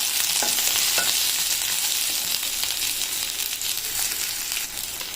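Chopped onion sautéing in oil in a pan, a dense continuous sizzle up close with light stirring scrapes, no talking.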